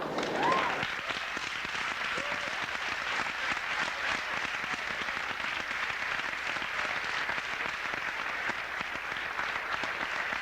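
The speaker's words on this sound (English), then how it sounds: "give a round of applause to all these people" A large audience applauds at a 1993 high school graduation ceremony, a dense, steady wash of clapping that holds for the whole stretch, with a faint voice at the very start.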